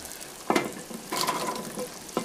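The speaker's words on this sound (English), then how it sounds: "So I'm just going to give them a stir so all the carrots get coated in butter." Carrots are stirred in melted butter in a pan, giving a soft steady sizzle broken by a few scraping stirs up close.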